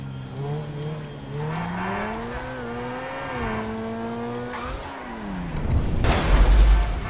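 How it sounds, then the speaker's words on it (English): Game car in GTA 5 revving with rising and falling engine tones, then a louder burst of crash noise and skidding near the end, heard alone without talk. "I actually crashed and scratched the front of the car."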